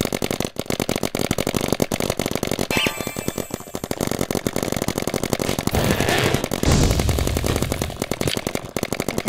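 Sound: paintball gun shooting

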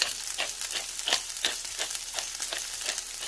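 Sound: onions frying in a pan with salt and pepper

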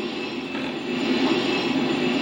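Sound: train in the video game GTA San Andreas

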